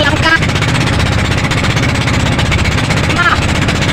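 A boat engine on a fishing boat struggling to tow a very big fish runs steadily and loud throughout, its rapid low chugging pulse dense and continuous with no talk over it.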